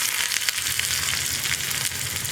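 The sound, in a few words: sliced onions frying in coconut oil with mustard and fenugreek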